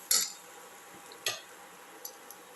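A utensil clinks and scrapes through salted cauliflower in a dish, making two sharp contacts near the start and a few fainter taps after. The strokes are close and sparse, over a quiet room.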